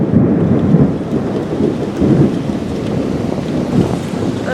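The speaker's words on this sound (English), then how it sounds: "Oh my god, it's raining. It's downpouring now." Heavy downpour with thunder during a thunderstorm, loud steady rain hiss with deep rolling thunder rumbles swelling and fading several times, heard close and alone.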